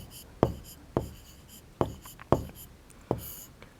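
A pen or chalk writes on a board or on paper in a school maths lesson, making six distinct tapping strokes with short scratchy trails, spaced irregularly, close and clear, with no talking.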